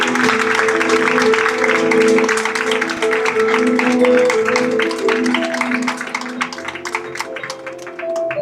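Applause from an audience at a town patronal festival presentation in Benaguasil, a steady wash of clapping held at an even level for several seconds, fading slightly toward the end.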